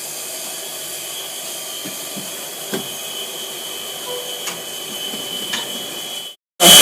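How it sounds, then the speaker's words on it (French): Cocoa bean grinder starting to grind coarsely, a steady mechanical whir and hiss with a constant high tone and a few faint ticks, cutting off abruptly before a sudden loud burst at the end. "Broyeur qui commence à broyer un peu grossièrement."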